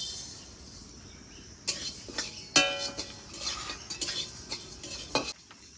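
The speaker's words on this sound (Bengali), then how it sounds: "তো এখন শুকনো কাঠখোলায় মুগ ডালগুলো ভেজে নেব।" Mung dal is dry-roasted in a dry clay pan, a spoon scraping and stirring through the dry lentils in uneven rattling strokes against a faint sizzle.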